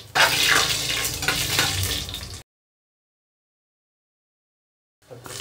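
Whole spices sizzling and crackling in hot oil in a pan for masala khichdi, loud and close for a couple of seconds, then a gap of silence before the frying resumes briefly.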